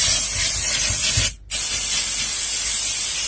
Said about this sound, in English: We're going to shake the can, and then we're going to give them a blast of spray here.